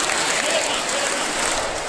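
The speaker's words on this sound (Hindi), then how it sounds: "तो ये ताली आप 108 बार बजाएंगे, लेकिन यहाँ पे केवल 11 बार, और अच्छा लगा तो 21 बार।" Schoolchildren at Saraswati Vidya Mandir clap together in a dense, loud, steady wash, with voices mixed into the clapping.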